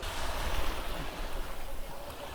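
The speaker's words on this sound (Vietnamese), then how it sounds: "Sóng biển vẫn vỗ, bờ bãi thì rong cùng với đá hòa trộn với nhau" Sea waves wash against a rocky shore strewn with seaweed near Quy Nhon, Vietnam, a continuous close rushing surge mixed with gusty wind buffeting the microphone.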